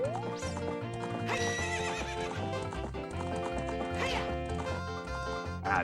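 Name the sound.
horse riding in video game Ocarina of Time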